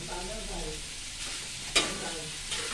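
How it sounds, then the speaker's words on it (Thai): Stingray sizzles and crackles in a hot wok with red curry paste, a steady frying hiss punctuated by a couple of sharp scraping stirs of a utensil. "ผัดได้เต็มที่นะไม่ต้องกลัวเนื้อมันแตกนะเพื่อน"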